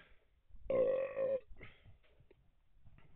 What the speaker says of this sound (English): There's a burp like stuck in the middle of my fucking throat.